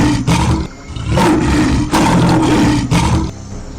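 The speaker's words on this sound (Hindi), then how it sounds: "शेर ने मदद के लिए दहाड़ लगानी शुरू की" A lion caught in a net roars for help, several loud, long, rough roars in a row separated by brief pauses, close and alone with no talk.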